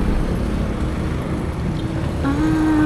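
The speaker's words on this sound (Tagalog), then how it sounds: "Not really speedboat, pero bangkang may motor." A motorized outrigger boat passes on the water near Dumaguete, its engine a steady, fairly close drone under wind, with a rising whine entering near the end.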